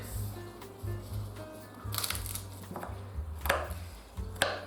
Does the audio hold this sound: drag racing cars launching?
no